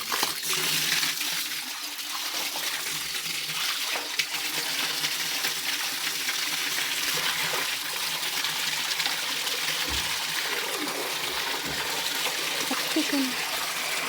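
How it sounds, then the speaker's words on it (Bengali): Water from a pump motor pouring out in a steady, continuous splashing rush outdoors, with a faint voice in the background. "আর জল পড়ছে"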